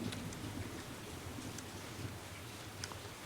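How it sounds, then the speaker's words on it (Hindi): Steady rain falling outside, a soft continuous hiss with faint scattered ticks of drops, even and moderately distant throughout with no voices. "बाहर बारिश हो रही है"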